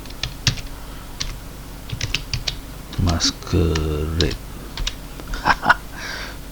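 Computer keyboard typing while configuring a GNS3 OpenVPN MikroTik lab on Kali: scattered bursts of key clicks come and go, mixed with someone talking in between and over them.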